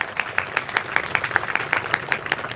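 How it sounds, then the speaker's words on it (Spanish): Audience applause for a bishop at a church gathering, a steady run of distinct, evenly spaced hand claps, moderately close and fairly quiet, with no voices over it. "Un aplauso fuerte para el obispo"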